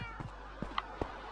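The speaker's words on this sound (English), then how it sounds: "Oh, my kitties are meowing." Cats meowing in the video game Minecraft, a few short, faint mews spaced across a brief moment over a soft background hum.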